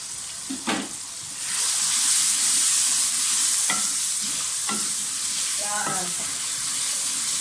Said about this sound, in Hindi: फ्राई कर लें अच्छी तरह से